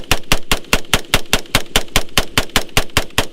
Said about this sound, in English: Here's the semi-auto firing rate one more time.